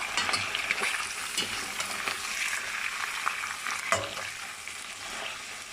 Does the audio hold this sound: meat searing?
yes